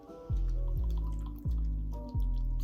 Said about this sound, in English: I'm about to add the coconut water to the cereal to try it.